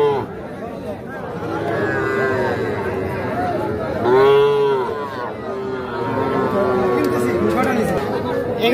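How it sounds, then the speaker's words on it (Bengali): Young bull calves at a rural cattle market in Bangladesh, with lowing moos rising repeatedly through steady crowd chatter and bargaining voices, one louder drawn-out call standing out in the middle. "ষাঁড় বাচ্চা"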